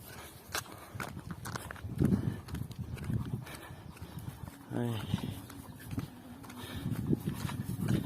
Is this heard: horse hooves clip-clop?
yes